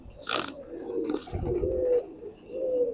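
A gandedar (ringed) pigeon coos close by, a few soft, low throaty coos rolling one after another, with some brief rustling noise early on and no talking.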